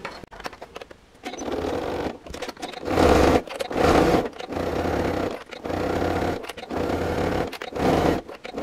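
A sewing machine stitches around the corners of a fabric coin purse, running in close bursts of steady whirring broken by short pauses, loud and near with no talk.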